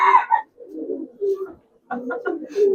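Giribaz pigeons coo close by in soft, low, rolling calls, broken by brief pauses. Someone talks over them.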